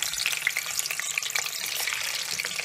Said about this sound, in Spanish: por último vamos a freírlos en abundante aceite